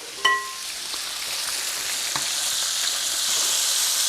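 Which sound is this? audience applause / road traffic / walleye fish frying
walleye fish frying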